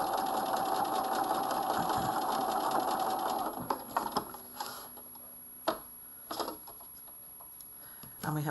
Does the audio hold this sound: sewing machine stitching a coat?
yes